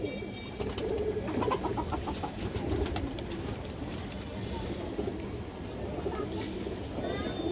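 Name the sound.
pigeons cooing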